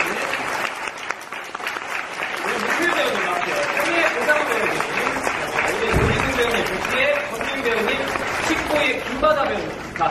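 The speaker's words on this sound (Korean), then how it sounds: "박수 주세요." Theatre audience applauds for about ten seconds as cast and adapting writer come onstage for a post-show talk on the play Trainspotting; steady, dense clapping throughout, with crowd murmur and some voices mixed in.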